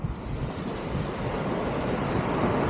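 Ocean surf washing onto a beach in Dingalan, Aurora, a broad, steady rush of waves mixed with wind buffeting the microphone, continuous and fairly loud.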